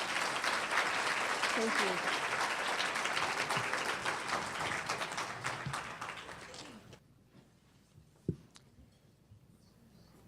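Warm audience applause greets a keynote speaker: dense, sustained crowd clapping for about seven seconds that tapers off abruptly into near silence, followed by a faint thump and a brief spoken thanks.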